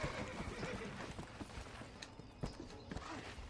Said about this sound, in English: Get freaking on the horse.